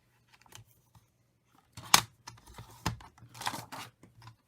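Scissors cutting through an empty laminated pouch, a few sharp close snips and crinkly plastic rustles spread over a quiet few seconds with no talking.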